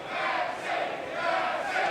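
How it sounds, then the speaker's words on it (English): A crowd cheering and applauding at a lawn bowls final, a dense sustained roar of many voices that swells and holds for the whole moment. "Crowd cheers, Max."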